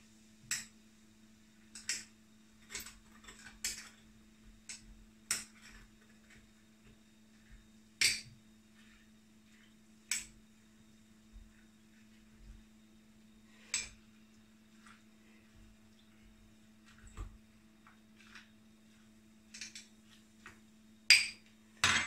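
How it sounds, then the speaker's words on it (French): A spoon stirring a virgin mojito in a glass, giving sharp, sparse clinks and taps spaced irregularly over a steady low hum, close and fairly quiet. "je vais touiller un petit peu. Et en même temps détasser"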